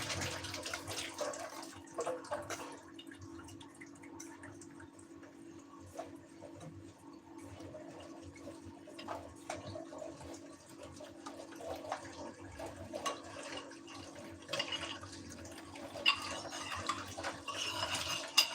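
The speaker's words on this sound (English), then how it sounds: "So water is rushing." Water running from a kitchen tap, a steady faint rushing with some clinks and handling noises, no talking.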